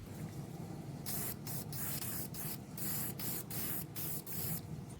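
Dye penetrant sprayed from an aerosol can onto a Honda CBR600F4i engine part, heard as a series of loud, close hissing bursts with brief gaps between them, and no talking.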